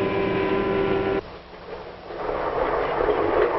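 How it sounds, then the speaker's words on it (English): A 1950s passenger train runs through farm country. A sustained tonal hum cuts off abruptly and gives way to a steady rushing rumble of wheels on track. "Now the train's hurrying through farm country."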